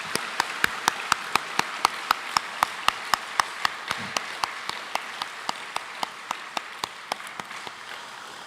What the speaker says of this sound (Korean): 우리 모두에게 격려하는 뜻으로 우리 한번 박수하도록 하겠습니다